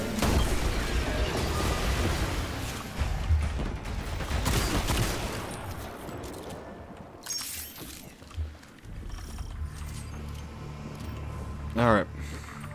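Gunfire in Destiny 2, dense crackling shots and impacts up front that fade into quieter game sounds, with a person talking over the action.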